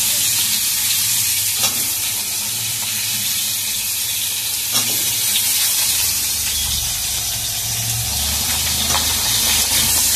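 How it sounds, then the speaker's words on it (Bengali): Cubed potatoes fry in oil in a home kitchen pan for a Bengali shukto, giving a steady, close, loud sizzle and hiss with a few faint stirring knocks, and no voices. "এবার আলুগুলোকে একটু লাল লাল করে ভেজে আমি বেগুনগুলোকে ভাজবো"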